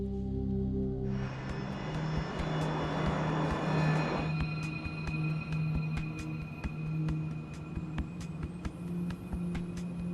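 An airliner cruising in flight gives a steady, dense engine roar that swells early, then settles into a continuous drone with tonal hums underneath, with no speech over it.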